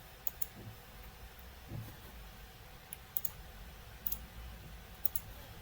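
Computer mouse buttons clicking in SolidWorks CAD software, with a handful of faint, sharp single clicks spaced about a second apart over a quiet, humming background.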